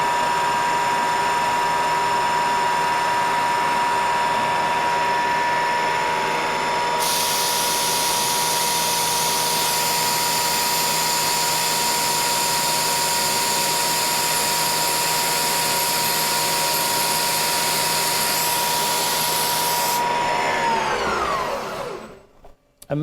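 Drill running on metal parts in a workshop, a loud steady mechanical whine that rises into a harsher high-pitched cutting sound for most of its length before winding down to a stop near the end.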